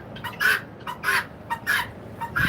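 Guinea fowl call at a flea market with a series of loud, harsh, rhythmic squawks, several bursts repeating close by.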